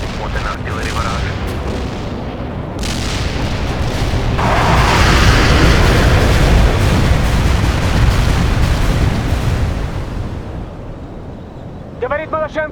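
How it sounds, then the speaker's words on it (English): Artillery barrage in the World in Conflict strategy game, a loud rolling wall of heavy explosions building and sustaining for several seconds, with a voice briefly heard near the end. "an artillery barrage"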